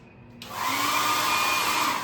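A hair dryer in a resort bathroom switches on and runs with a steady, loud whooshing hum.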